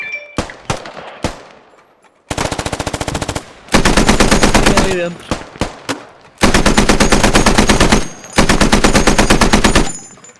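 Machine gun fire in the video game Squad: loud, sustained automatic bursts with a few single shots between, very close and dominant, with a brief spoken line in between.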